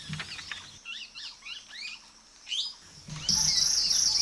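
Paradise flycatchers give a string of quick, sharp chirping calls at fairly close range, followed by a higher, steady buzzy note, with no voices present.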